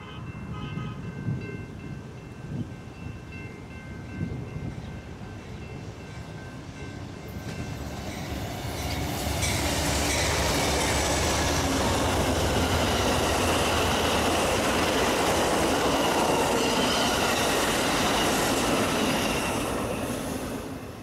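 Amtrak's Southwest Chief passenger train speeds along the BNSF racetrack toward Los Angeles, a distant rumble swelling into a loud, sustained roar of wheels and cars rushing past close by, with faint squeal.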